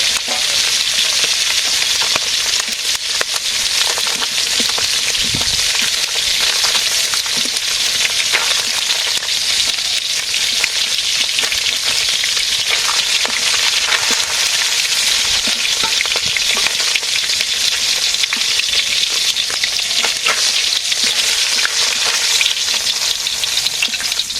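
Fish fries in a pan with a loud, steady, dense sizzle and crackle that continues without break, close by and with no voices.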